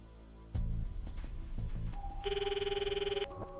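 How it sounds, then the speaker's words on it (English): A phone call ringing tone in the Steins;Gate 0 video game plays as a steady electronic ring burst after a low thump and faint background music, moderately quiet and with no talk over it. "I could hear the call sound in my ear."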